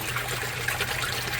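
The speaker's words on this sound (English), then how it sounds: "as you can see all that water coming out" Water drains steadily out of an aquaponics grow bed on a 60-gallon system set up outdoors, a continuous close trickling and gushing flow with no pauses across the short stretch.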